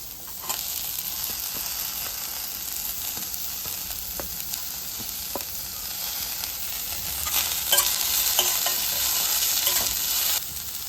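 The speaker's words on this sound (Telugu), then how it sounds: "పొటాటోస్ కాస్త ఫ్రై అయ్యాక నేను ఇందులోకి ఆనియన్స్ యాడ్ చేసుకుంటున్నాను." Raw potatoes and onions frying in a pan for corn upma, a continuous close sizzle with occasional stirring scrapes and taps, no talking.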